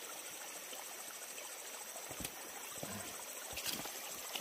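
A river stream in a rural Indonesian setting, a soft steady trickle and flow of water, faint and continuous, with a few brief knocks and rustles, no talk.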